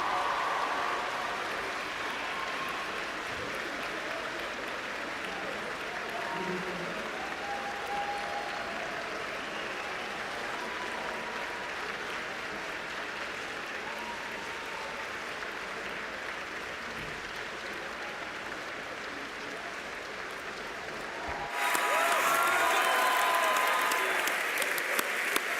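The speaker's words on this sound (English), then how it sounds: "And give them a round of applause," Graduates at a business school celebration turn and applaud their parents, a broad sustained round of clapping with a few faint voices underneath, swelling suddenly louder and closer near the end.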